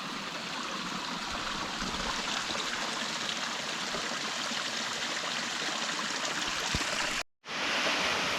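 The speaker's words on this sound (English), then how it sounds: "Waterfall." A small waterfall on Big Creek, a steady close rush of falling water with continuous hiss and gurgle, loud and unbroken apart from a brief dropout near the end.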